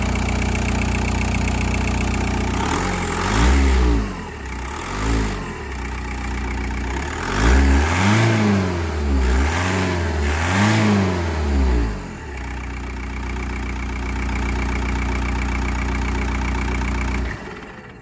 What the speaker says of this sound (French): De 3 coups de gaz